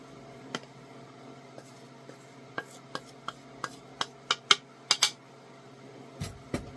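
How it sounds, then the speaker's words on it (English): Strawberry banana muffin batter with sourdough discard being stirred in a large bowl, a spoon knocking and scraping against the sides in a loose series of sharp clinks that grow busier toward the end, with no talking. "We're going to get it mixed up."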